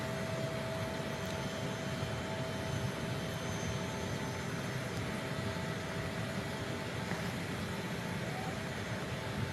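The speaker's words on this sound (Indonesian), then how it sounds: "persiapan pesawat kenegaraan untuk take off dari Bandara Halim Perdana Kusuma, Jakarta" A state aircraft prepares for take-off at Halim Perdanakusuma Airport in Jakarta, giving a steady broadband engine roar that stays constant and fairly distant throughout, with no talk.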